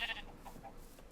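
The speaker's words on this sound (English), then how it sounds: "It's another variant of a already existing mob, and that is the horned sheep." A horned sheep from the Earth Mobs mod for Minecraft bleats faintly in short high calls near the start, alone over a low, steady background hum.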